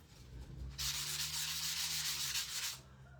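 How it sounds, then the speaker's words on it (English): A 120 grit sandpaper block scrubs quickly across a painted beadboard wood sign, giving a close, steady rasping rub for about two seconds after a faint start, with no talking. "I am going to sand over it real quick."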